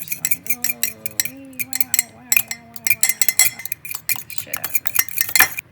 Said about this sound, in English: you're gonna beat the shit out of this egg until it's like all mixed